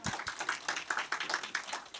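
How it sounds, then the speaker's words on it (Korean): Audience members at a teachers' conference clap for a participant, a brisk run of evenly spaced claps, faint and somewhat distant, lasting a couple of seconds. "박수 한번 줄까요?"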